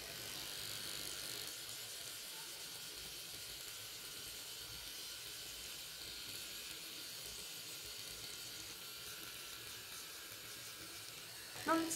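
A Syska FT006 female trimmer buzzing quietly and steadily while removing facial hair, a faint continuous electric whir with a small bump of noise near the end.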